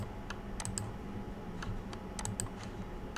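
Quick bursts of typing on a computer keyboard while writing Python code, light clustered key clicks with short pauses between runs, close and fairly quiet.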